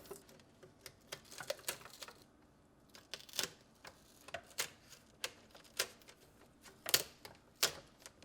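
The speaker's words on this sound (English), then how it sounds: "Next, peel back the tape." Tape being peeled back from an LG refrigerator in-door ice maker, a string of small crackling ticks and sharp clicks at close range, quiet and irregular.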